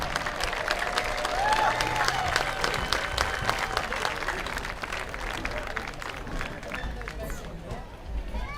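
Crowd at a high school varsity football game applauds Hall of Fame inductees, a steady wash of clapping and cheering mixed with general stadium hubbub that holds at an even level throughout.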